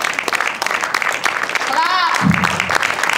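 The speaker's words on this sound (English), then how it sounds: "Please, if you clap, the speaker will come faster." Applause from a conference audience continues as the host urges more clapping for the next speaker, a steady patter of hands with a voice talking over it and a brief tonal chirp partway through.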